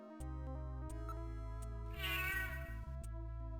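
A cat meows in the video game Snatcher, a tonal electronic-sounding call heard over steady synthesized game music with repeated blips.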